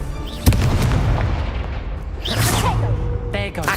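A Confringo fire spell blasts off in Hogwarts Legacy, a sharp burst near the start followed by a sustained rumbling, crackling roar with whooshing swells and a second flare late on, loud and close.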